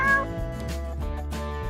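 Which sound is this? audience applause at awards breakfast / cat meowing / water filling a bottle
cat meowing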